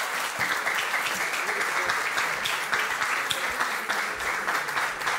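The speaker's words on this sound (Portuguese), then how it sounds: "Um aplauso." An audience at a Portuguese debate on five decades of democracy in schools applauds steadily and fairly loudly, a dense, even wash of clapping that runs for several seconds without any talk.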